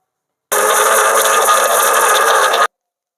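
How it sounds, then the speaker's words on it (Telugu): A kitchen mixer grinder grinds fresh coconut with water in one continuous, loud, even whirring burst of about two seconds that starts and stops abruptly. "ఇది మిక్సీ పట్టేసుకోవాలి."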